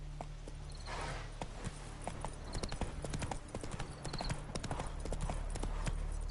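Geralt's horse Roach in The Witcher 3 gives a rapid, steady clip-clop of hooves, close and fairly loud, with faint game ambience behind and no talk.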